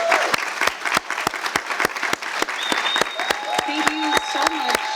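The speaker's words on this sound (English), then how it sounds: "Can everybody that's gathered give a round of applause for Claudia de la Cruz?" A crowd at a political event applauds for a speaker, loud scattered claps cracking sharply over cheers and whistles, with voices calling out in the mix.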